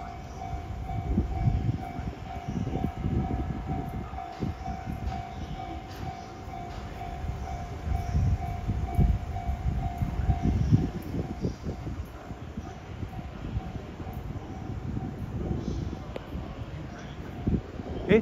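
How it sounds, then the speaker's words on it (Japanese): A Japanese railway level crossing bell on the Keihin-Tohoku and Tokaido lines rings in a steady repeating clang for about ten seconds while a train approaches with a low rumble, and the train noise continues after the bell fades. "また踏切鳴ってます"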